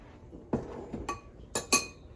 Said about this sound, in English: Now we're going to add in our shrimp, about a pound of shrimp that I cut up.